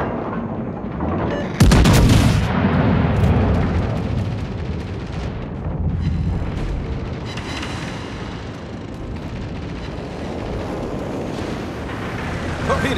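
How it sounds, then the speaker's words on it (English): Naval guns fire during a ranked World of Warships match with the USS Ohio battleship, a sudden loud blast followed by rolling booms and rumbling over wind-like ocean noise, then smaller distant reports. "Concentrate fire on the enemy warship."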